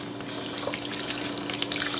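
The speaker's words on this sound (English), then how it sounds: "just pour" Herbs and oil pour through a metal strainer into a glass bowl, a steady close liquid splashing and trickling with no talking.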